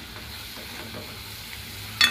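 Tomatoes with salt sizzle and fry in the oil of a dal tadka tempering, a steady close crackle with faint stirring and a brief louder clatter at the end.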